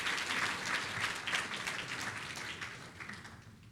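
Graduation ceremony audience at a La Trobe University event claps for a graduate speaker, a dense wash of applause from a large crowd that stays steady, then softens slightly toward the end.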